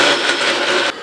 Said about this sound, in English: Now we transfer the chilies to a blender, add a Roma tomato cut in half, clove of garlic, salt, and water